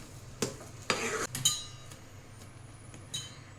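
A spoon scrapes and taps against a pan while semolina halwa (sheera) made with ghee is mixed, producing several short clinks and scrapes at moderate loudness in a quiet kitchen.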